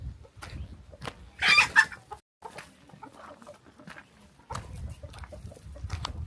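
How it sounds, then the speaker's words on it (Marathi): Free-range village chickens cluck in a rural hamlet in the Sahyadri hills, a few loud bursts standing out over a low outdoor rumble, with quieter clucking scattered through the rest. "गावरान कोंबड्या पाहू शकता मित्रांनो."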